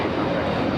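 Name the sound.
Hawaiian Airlines Airbus A321neo taking off at LAX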